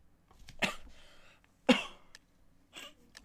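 Two sharp coughs from a person, close and loud, spaced about a second apart, with a fainter throat sound near the end; quiet room otherwise.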